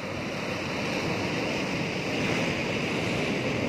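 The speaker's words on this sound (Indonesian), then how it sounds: "Saudara bisa lihat di belakang saya" Ocean waves washing onto a beach, a steady, broad roar of surf with wind noise on the microphone, continuous and fairly close, with no voices.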